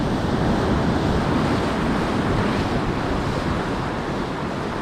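Sea swell washes onto the UK shoreline during a morning of bass fishing, a steady loud roar of surf mixed with heavy wind buffeting the microphone, with no speech.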